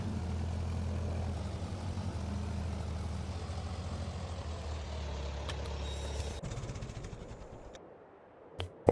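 A tractor engine in a farming simulator game drones steadily at a low idle-like rumble, then cuts out near the end, leaving a couple of small clunks.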